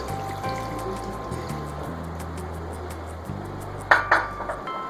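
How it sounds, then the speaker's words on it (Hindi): Water pours steadily into a pot of meat for dhuwan gosht, a continuous trickle over a low kitchen hum, ending with a couple of sharp clinks near the end. "अब बस हम पानी डालकर गोश्त को गलने के लिए छोड़ देंगे।"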